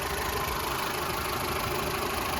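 A Volkswagen Golf Plus's 1.4-litre naturally aspirated petrol engine idles smoothly and evenly, a steady close-up hum with no revving.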